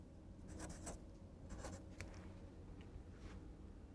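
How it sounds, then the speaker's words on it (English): A pencil writes a word on paper for a kindergarten reading lesson, making quiet, close scratchy strokes in several short bursts with small pauses between them. No voice is heard over it. "Let's write the word teepee."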